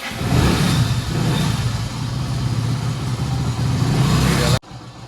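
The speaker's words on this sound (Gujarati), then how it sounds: "પહેલાં આપણે બાઇકને ચાલુ કરીને મેળીએ" A motorcycle engine idles steadily at close range while warming up, a low continuous rumble that holds even before cutting off abruptly near the end.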